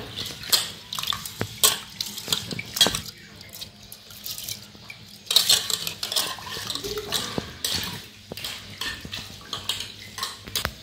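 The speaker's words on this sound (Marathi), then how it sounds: "आता तांदूळ घेतले धुवून मीठ करून घेतलं स्वच्छ चांगलं. धुवून टाकते" Rice being rinsed by hand in water for a home-cooked biryani, with repeated splashes, swishing and metal pot clinks at close range and no talk.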